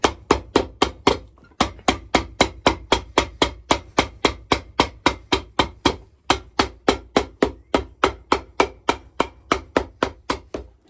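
Rapid, steady hammer blows on metal while a spade sole is being shaped, about three strikes per second, each a sharp ringing clang, with one brief pause partway through and no talking.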